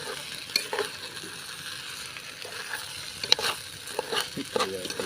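Arroz caldo rice porridge being stirred in a pot, a steady scraping and swishing with scattered clinks of the spoon against the metal, fairly close and moderately loud, with no talking.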